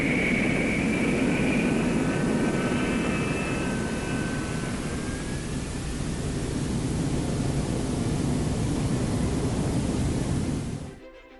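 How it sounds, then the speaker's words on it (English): A J79 jet engine on a ground run at afterburning thrust gives a loud, continuous roar with a thin whine fading early on, holding steady for about ten seconds before cutting off abruptly. "Ground runs were conducted at both dry and afterburning thrust levels to validate the fundamental"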